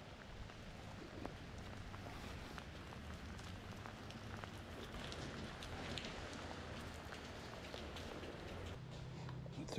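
Steady rain patters on a surface, a dense, even hiss with scattered drops, continuous and moderately close with no voices.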